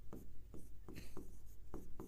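Short writing strokes on paper or a board during a Class 10 maths lesson, a faint series of quick scratching marks spaced roughly a third of a second apart.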